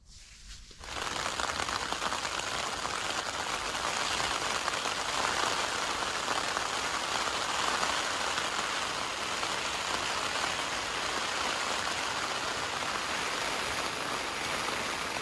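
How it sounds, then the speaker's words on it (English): Rain from a morning thunderstorm at an exposed lakeside island campsite on a canoe trip, a dense steady patter on surfaces that swells in within the first second, then stays loud and constant. "morning thunderstorm. Need the rain."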